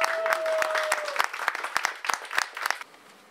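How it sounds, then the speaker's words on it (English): A lecture audience gives a round of applause, dense and fairly loud, with a few sharper claps standing out before the clapping thins and fades away near the end. "Give a round of applause."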